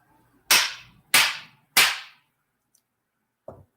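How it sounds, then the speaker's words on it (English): Three sharp gavel bangs in even succession, loud and close with short decaying tails, followed after a pause by a softer, duller knock. "I'm going to have to actually issue some gavel bangs for you."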